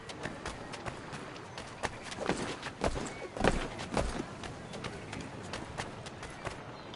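Horse hooves clip-clop in a quick, irregular patter in a video game, fairly faint, with a few louder thuds partway through.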